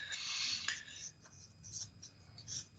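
Math written out on a board, with faint, scratchy marker strokes in short scribbling bursts over quiet room noise.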